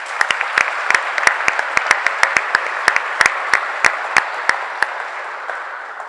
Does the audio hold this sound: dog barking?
no